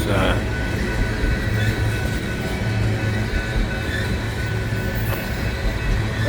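A train passes at night, its steady, loud rumble and rolling wheel noise filling the whole stretch without a break, with no voices over it.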